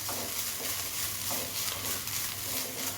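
A lentil mixture with asafoetida roasts in a pan for thavala vadai, giving a soft, steady sizzle with occasional stirring scrapes, fairly quiet and close.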